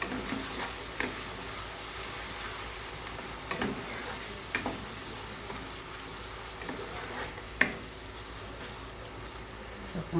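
Egg frying with patola (sponge gourd) in a pan gives a steady, soft sizzle throughout, with occasional light clicks and stirring taps.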